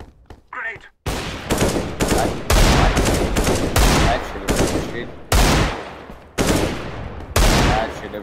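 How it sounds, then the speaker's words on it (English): Gunshots in a video game, a run of loud sharp cracks and short bursts firing in irregular clusters, each shot close and punchy with quick decays between them. "I shoot with the gun"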